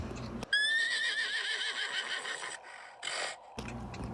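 A horse whinnies loudly with a long, wavering, high-pitched neigh, followed a moment later by a shorter second call.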